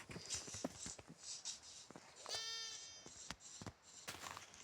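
Sheep bleating in the Minecraft video game, a single harmonic synthetic bleat rising briefly amid a busy mix of game sounds, clip-clop hoof steps and clicks.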